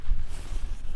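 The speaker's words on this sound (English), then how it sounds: "it seems like the wind's picking up a little bit again now" Strong wind buffets a camping tent, a steady low rumble with gusty swells across the whole second, close to the microphone and alone.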